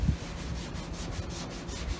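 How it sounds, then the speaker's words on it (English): Rhythmic scrubbing on a spot of a C1 Chevrolet Corvette gas tank, close, quick back-and-forth rubbing strokes repeating steadily for about two seconds. "It's going to take a little more scrubbing on this."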